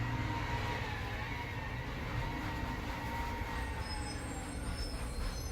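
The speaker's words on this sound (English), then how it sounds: "Have to deal with trains at the conference center." Train passing near a conference center, a steady loud rumble of rolling railcars with wheel squeal and faint high screeches, continuous throughout.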